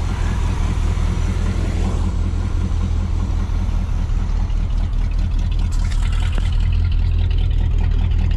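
A 1953 deuce and a half military truck with dual exhaust and two cherry bomb mufflers rumbles steadily up close, its loud low engine drone continuous throughout with no talking.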